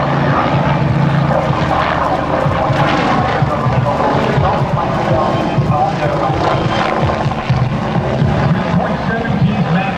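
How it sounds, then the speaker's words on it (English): An aerobatic helicopter with a rigid solid titanium rotor head and composite blades flies at the Blue Angels homecoming airshow, its loud, continuous rotor and engine roar filling the whole clip with rhythmic blade chop. "part of the design of this helicopter is that rigid rotor head and the solid titanium rotor head and the composite blades"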